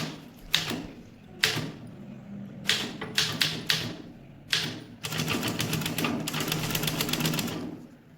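Typewriter keys strike in scattered bursts and then a rapid continuous run near the end, a mechanical clacking practice for English junior typewriting, close and alone with no talk.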